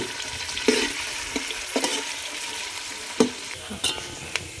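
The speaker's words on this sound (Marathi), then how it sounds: "कंटिन्यू हलवत राहायचं याला, नाहीतर एकाच ठिकाणी कांदा करपून जातो." Onions fry in a pan over a wood-fired stove for mutton biryani, a steady hiss of oil with repeated scraping stirs at an uneven rhythm, close and clear.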